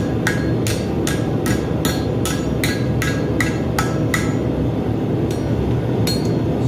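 Rebar hammered into a ring at a forge, about a dozen loud, evenly spaced metallic strikes over a steady low roar, then a short pause and a couple more blows.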